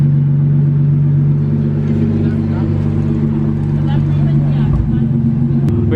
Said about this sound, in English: we about to teach the homie how to turn it on and get some revs up